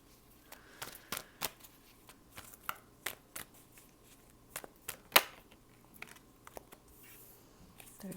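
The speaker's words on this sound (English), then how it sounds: "I'm just shuffling your cards and waiting for cards to pop out" Soft, irregular tarot card shuffling: a string of light slaps and riffling clicks at close range, with quiet pauses between bursts.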